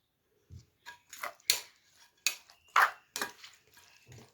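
A spoon stirs red kidney bean chaat with cumin and chutney in a bowl, giving a series of separate close scrapes and clinks against the bowl, spaced irregularly, with no talk.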